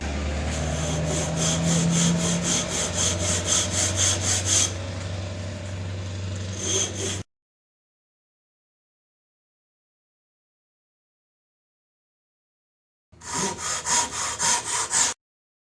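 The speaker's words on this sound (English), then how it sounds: "So we're going to start with the saw. What I'm going to do is cut down that line to a certain point" A hand saw cuts down a marked line in wood in a workshop, with steady rhythmic rasping strokes for several seconds, then silence, then a shorter burst of quick close strokes.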